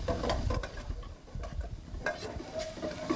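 Spam purée, diced bacon, and beef and chicken barbecue sautéing together in a pan, with steady close sizzling, stirring scrapes and occasional utensil clinks against the pan, and no voices.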